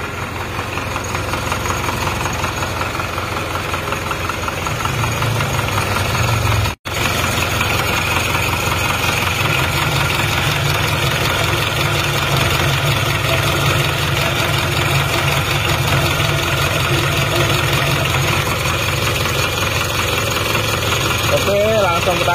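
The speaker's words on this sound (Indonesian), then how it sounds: "Jadi suara mesinnya sudah bunyi seker tak tak tak tak tak tak tak tak." A small stationary diesel engine that burns oil runs close by with a continuous idle. Its rough, rapid tak-tak knocking persists throughout, broken only by a momentary dropout partway through.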